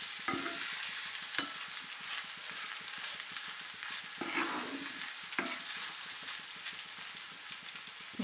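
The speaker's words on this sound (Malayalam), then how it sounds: "ഇനി എണ്ണയ്ക്കകത്ത് കിടന്ന് ഇത് നല്ലതുപോലെ ഉലർന്നു വരണം." Beef frying in oil sizzles with a constant bright crackle while a spoon scrapes and stirs through the pan in irregular strokes, up close with no talking.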